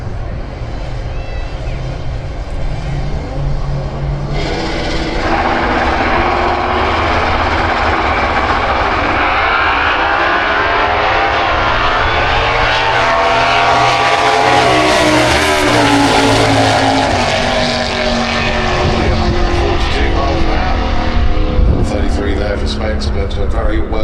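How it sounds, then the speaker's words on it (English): A Camaro drag car at Santa Pod launches and roars down the strip against a teammate's car, a loud sustained engine howl that rises and peaks mid-run, with a commentator talking over it throughout. "You've got Nick Williams down there with the Coco Camaro, taking on his teammate, Spencer Tran"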